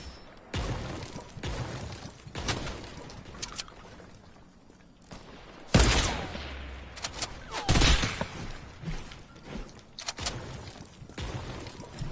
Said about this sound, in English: We're getting shot from over here somewhere.